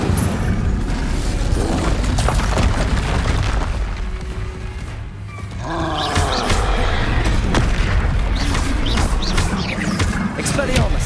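Fire spell combat in Hogwarts Legacy, a dense run of booming bursts and crackling blasts with a brief lull midway before more impacts, loud and close amid game sound.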